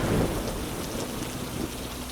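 Steady heavy rain falling with a thunderstorm, a continuous dense roar with low thunder rumbling underneath, loud and even throughout with no voices.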